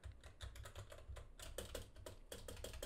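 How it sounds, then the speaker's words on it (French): Quick, steady tapping on a computer keyboard at normal force, close and fairly soft, with keystrokes coming in rapid clusters and brief pauses. "Là, je tape avec le clavier uniquement, pas trop fort, juste normal"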